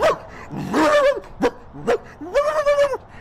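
A dog indoors in a room lets out a run of yipping, whining barks, several close and loud bursts with short gaps, rising and falling in pitch.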